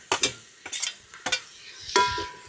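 Green chillies, tomatoes, carrot, coriander and mint being stirred and fried in a hot pan, with four distinct scraping strokes of a spoon over a soft sizzle.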